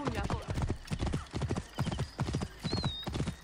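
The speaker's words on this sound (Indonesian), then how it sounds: "Ayo kuda, kita bergerak." A horse gallops in Assassin's Creed Origins, its hooves striking in rapid, loud rhythmic clusters close by, with a whinny and someone talking over it.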